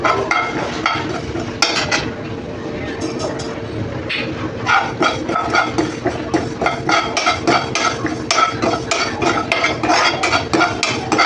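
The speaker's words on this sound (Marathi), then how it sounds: "चांगली तिळ आपण ते थोडे भाजून घेणार आहोत" Sesame seeds roast in a pan while a spatula scrapes and taps the metal in quick, uneven strokes, a close, busy clatter that keeps going with short pauses, next to bitter gourds cooking in a Marathi kitchen.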